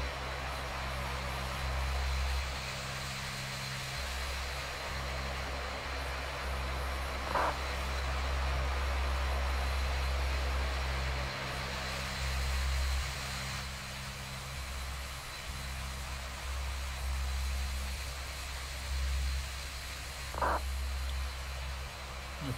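Airliner taxiing at East Midlands airport in a flight simulator game, a steady engine drone with low rumble and hiss throughout, plus a couple of brief faint clicks, no talking.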